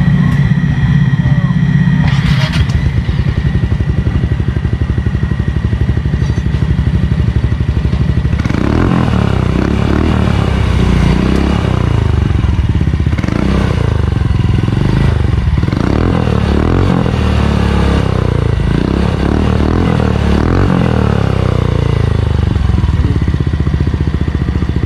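A Yamaha Mio Soul i 125 scooter fitted with a REV exhaust idles and revs close by, a loud continuous engine rumble with rising throttle blips and some rattling.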